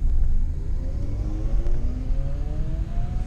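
A Ford Sierra RS Cosworth pulls away under hard acceleration, a loud, steady engine rumble with rising tones climbing through the gears, heard from close by without talk.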